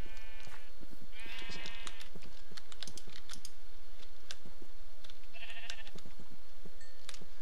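Sheep bleat repeatedly in a Minecraft Pixelmon game, several short wavering calls over steady rapid keyboard typing and a constant hum.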